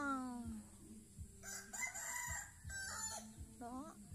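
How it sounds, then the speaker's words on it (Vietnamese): Chickens in a vegetable garden, with a rooster crowing repeatedly nearby over soft clucking and scattered bird calls, the crows rising and falling in drawn-out phrases. "mình ở đây gà nhiều lắm đây kìa"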